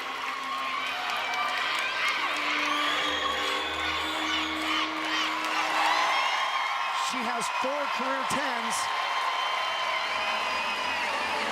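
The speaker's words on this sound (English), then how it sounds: "The Utah crowd cheering about the score." A gymnastics meet crowd at the Pac 12 Championships cheers and applauds at a moderate distance, forming a broad wash beneath a commentator's speech, with a few whistles cutting through.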